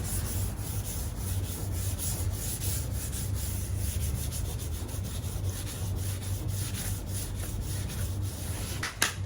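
Steady abrasive rubbing as plastic fairings of a Honda VFR800 motorcycle are buffed and sanded during paint prep, a continuous close scrubbing texture with no talk.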